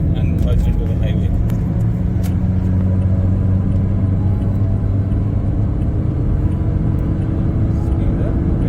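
Car accelerating up an on-ramp to merge onto Highway 401 in Mississauga, a steady loud engine and road rumble from inside the cabin throughout.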